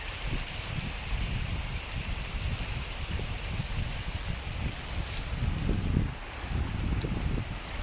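Breeze gusts along a hiking trail in budding spring woods on the Loyalsock Trail, a continuous rushing blow with rumbling buffets against the microphone rising and easing, no talking.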